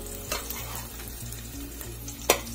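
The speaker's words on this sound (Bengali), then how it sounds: "পেঁয়াজটা ভেজে নিচ্ছি" Onion fries in hot oil with cumin, giving an even, close sizzle over a low steady hum. A couple of brief utensil clicks break in, and no one talks.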